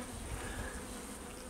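Honey bees drone continuously around a lifted hive frame, a soft, even buzz of many insects close by with no talk over it.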